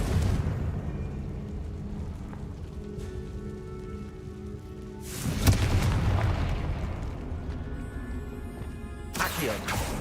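A Confringo fire-spell blast in the video game Hogwarts Legacy, a sudden loud whooshing burst midway over a rumbling background, with another crackling hit near the end.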